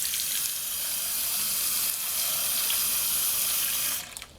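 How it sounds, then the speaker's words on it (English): Cold tap water running over frozen shrimp in a kitchen sink, a steady splashing hiss close by that stops abruptly just before the end. "The best way to get these defrosted is to run them under cold water."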